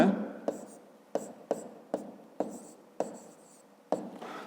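Pen strokes scratching on paper while a fifth-grade math exercise about angles is worked out, a run of short sharp scrapes arriving every half second or so, close and fairly quiet with no talk.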